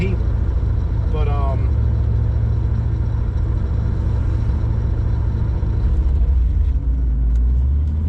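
A supercharged Toyota Supra engine drones loud and steady on the move, with a constant low rumble and a brief rising whine, while a voice talks over it.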